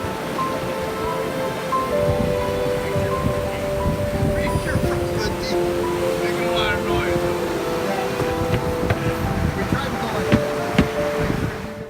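The J160 sailboat Jam surfs quickly through waves in a morning breeze, with continuous rushing water, wash against the hull and wind noise. The sound is broad and steady, rising and falling softly with the swell.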